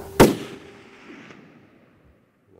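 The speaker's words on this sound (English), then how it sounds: "All right, I got a shot." One sharp rifle shot is fired while hunting black Hawaiian sheep outdoors. The loud crack is followed by a long echo that rolls away and fades into quiet.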